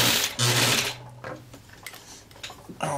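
A sewing machine stitches a shirt collar while adding a collar-stay pocket, running in short bursts of rapid mechanical chatter with brief pauses between, close and fairly loud.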